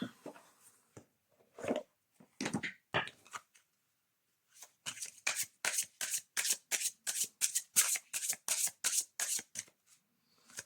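A Garance oracle card deck being shuffled by hand: a few scattered riffles and taps, a pause, then a quick, regular run of crisp card riffles, close and clear.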